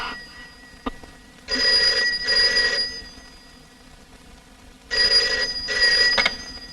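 A telephone rings in two double bursts with a pause between them, loud and close in a quiet room, with no voices.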